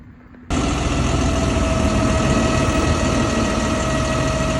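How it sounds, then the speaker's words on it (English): A tractor engine suddenly starts up loud and keeps idling with a steady low rumble and a droning hum, no voices, as tractors are maneuvered into position. "Trying to get the tractors in position now."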